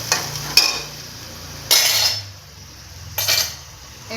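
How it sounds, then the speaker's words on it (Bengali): Masala paste being stirred and roasted in a pan, three distinct bursts of spoon scraping and sizzling spaced a second or so apart, with quieter frying hiss between them and no voices. "রান্নার মধ্যে এই মশলাটা কষিয়ে নেব।"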